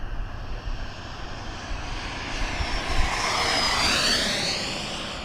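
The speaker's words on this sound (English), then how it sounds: "Going to full throttle here for a high-speed pass." A Taft Hobby Valkyrie 90mm electric ducted fan RC jet on a 5,000 mAh pack makes a full-throttle high-speed pass, its loud rushing whine swelling, then bending downward in pitch as it sweeps past, with no talking.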